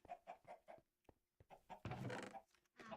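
Chickens clucking in a video game, a quick series of short clucks followed by a louder, noisier squawk-like burst and further calls, close and uneven in rhythm.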